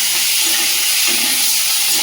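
Prawns coated in salt and turmeric sizzle in hot oil in a kadai, a steady bright hiss of frying that stays close and loud throughout with no talking.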